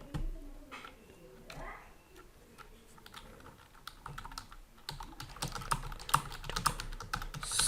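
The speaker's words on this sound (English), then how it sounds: "typing here" Keys clatter steadily on a computer keyboard, quick uneven taps growing busier and louder toward the end, with faint talk in the background.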